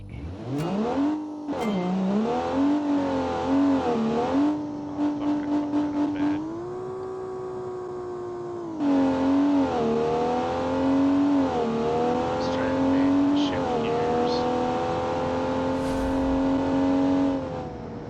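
A 1995 drag truck with an automatic transmission in the BeamNG driving game roars as it accelerates hard, its engine pitch climbing and dropping through a series of quick gear shifts, loud and continuous throughout.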